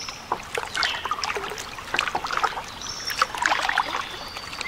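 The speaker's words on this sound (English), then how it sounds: "It's nice to be kayaking again too." A kayak paddled along the Union Canal, with close paddle strokes dipping and pulling through calm water, drips and small splashes scattered throughout at a gentle, irregular pace.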